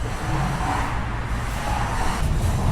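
A steady car engine rumble with broadband road noise, continuous and fairly loud throughout, no speech.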